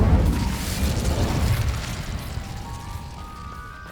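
A fire spell cast in Hogwarts Legacy bursts with a loud whooshing blast, then fades into a lingering, crackling roar of flame.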